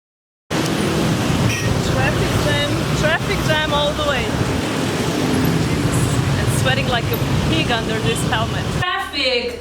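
Busy street traffic in Bali, a constant roar of engines and road noise with scattered horn-like beeps and whines from passing motorbikes, close and loud, cutting off abruptly near the end.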